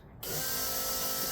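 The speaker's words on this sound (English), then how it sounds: "Fuel pump." A sand car's electric fuel pump primes, kicking on suddenly after a brief quiet moment into a loud, steady high-pitched whir and buzz that holds constant until the end, with no one speaking.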